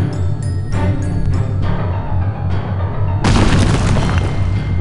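In the Psychonauts video game, a grenade goes off with a sudden loud, broad blast midway through, set against busy game sound and music.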